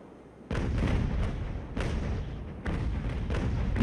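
A video game sailing warship fires cannon volleys: three heavy booming salvos of artillery fire, loud and rolling, each swelling into a sustained rumble.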